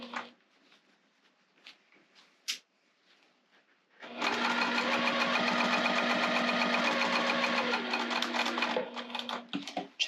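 A sewing machine runs in one long steady burst while stitching a boombox basket, preceded by a few quiet clicks and handling noises, then stops near the end.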